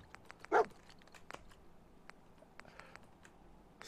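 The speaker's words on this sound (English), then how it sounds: "What are you barking at, dog?" A dog in the Fallout 4 video game gives a single short, close bark among soft clicks and faint game background noise.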